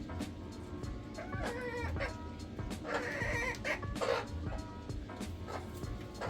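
Silkie and Peking bantam hens clucking and cackling in a busy coop, several birds calling over one another against a steady low background rumble.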